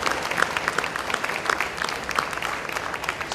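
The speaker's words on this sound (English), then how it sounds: "big round of applause for Ashley and App Harvest as well" Sustained applause from a luncheon audience at a Chamber of Commerce event, dense steady clapping from many hands with no talk over it.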